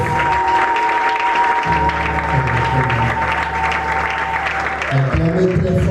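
Loud, continuous applause and cheering from a church congregation at a Congolese revival church plenary, with sustained keyboard chords droning beneath the dense clapping throughout.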